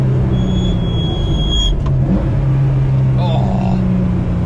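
Cabin of a stripped-out 1986 Porsche 911 wide-body Elmerhaus on a test drive, with loud steady engine drone and road rumble filling the interior throughout, barely any sound deadening.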